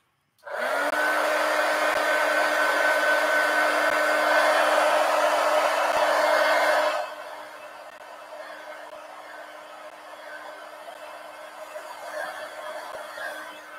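A hair dryer blows on wet ink on a journal page. It switches on with a loud steady whoosh and hum, runs for about six seconds, then drops to a quieter, softer blowing until the end.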